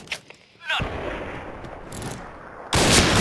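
Gunshots from the shooter video game Point Blank, a loud burst of gunfire that cuts off and then returns as a sustained blast at the end.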